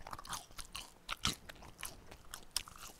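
Crisp Pizza School pepperoni pizza with garlic crust is bitten and chewed up close, with a series of sharp crunches and softer chewing between them, quiet and without speech.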